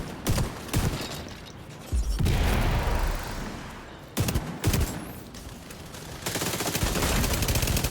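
Rapid bursts of automatic gunfire in The Division 2 shooter game, dense volleys cutting in and out with brief pauses, loud and close, with no talking.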